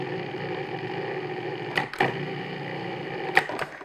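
Food processor pulsing flour and salt for a pie crust, a steady motor whir with a few brief clunks and stops, close and moderately loud.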